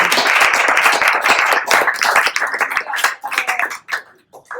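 A meetup audience applauds after a talk, a close, lively burst of many individual claps that thins out and tapers to scattered hand claps near the end.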